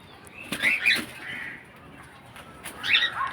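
Cockatiels in a breeding colony, scattered chirps and calls with a couple of brief wing-flutter bursts, fairly close and moderately loud over a quiet background.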